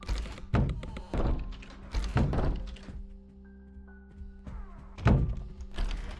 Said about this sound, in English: we heard a thump